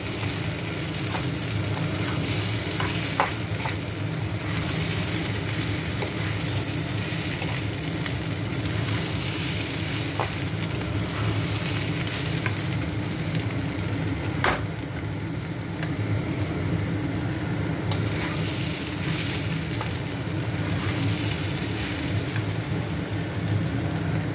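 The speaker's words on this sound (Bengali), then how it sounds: "মশলার সঙ্গে মিশিয়ে একটু ভেজে নেব, খুব বেশি না, এই 5 মিনিটের মতন" Catla fish heads and spices frying in a pan, a steady broadband sizzle lasting throughout with a few soft clicks of stirring, close and fairly loud, no voices.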